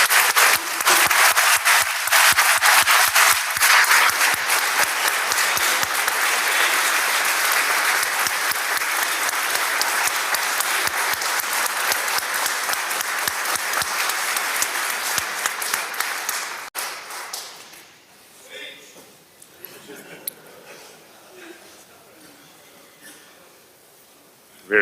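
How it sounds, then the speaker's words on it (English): Round of applause from members on the House floor of the Mississippi legislature, loud sustained clapping from a crowd that continues for roughly seventeen seconds before fading out into quiet room noise. "give her a special acknowledgement and a round of applause of appreciation"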